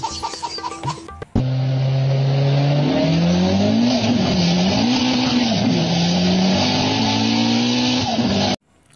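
A car engine starting and revving as the vehicle pulls away in a village comedy sketch, a loud sustained drone rising and falling in pitch as it accelerates, then cutting off abruptly.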